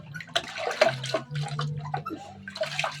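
Water splashes and sloshes in irregular bursts while a pet is bathed, close and moderately loud, with a low hum underneath.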